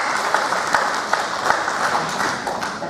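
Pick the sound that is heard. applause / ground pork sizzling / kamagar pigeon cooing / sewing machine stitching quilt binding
applause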